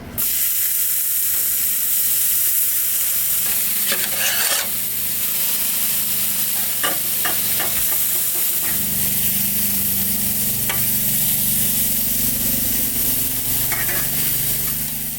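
Buns toast in Graza olive oil over high heat, producing a steady, close sizzle with scraping and rubbing as they are spread across the hot pan.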